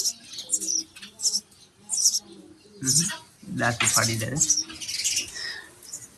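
Sparrow chicks in a nest box give short, high chirps in quick bursts, fairly close, while people talk over them.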